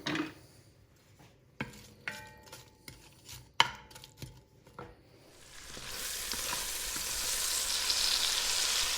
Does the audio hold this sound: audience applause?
no